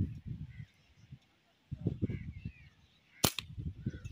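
A slingshot loosed while hunting a perched bird outdoors, one sharp snapping crack midway, with someone talking before and after it.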